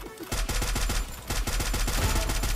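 Rapid automatic fire from a PP19 submachine gun in the battle royale game Free Fire, a dense, loud burst of evenly spaced shots running nearly continuously with a brief gap in the middle.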